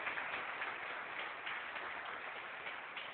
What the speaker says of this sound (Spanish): traigan ese aplauso para el Señor, dáselo fuerte